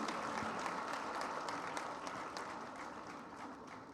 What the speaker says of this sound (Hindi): कितनी तालियां बजानी चाहिए अपने ऐश की सबसे बड़ी शायरा के लिए।